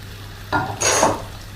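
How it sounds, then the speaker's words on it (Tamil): Cashews and ginger fry in hot oil for samai pongal, with a short sizzle and a quick scrape of a spoon stirring through the pan, close by and with no talking. "முந்திரி, முந்திரி பொரிஞ்சிருச்சு"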